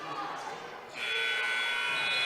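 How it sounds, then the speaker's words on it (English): In a 1A boys high school basketball second-round game, the buzzer ending the first half blares as a loud, sustained electronic tone that cuts in after a second of crowd noise and holds to the end. "Dominic Dance no good at the buzzer. That'll do it for the first half."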